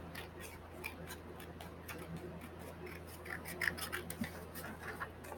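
Scissors cut a paper sheet in half for a notebook, giving quiet, scattered snips and rustles close by over a soft background hum.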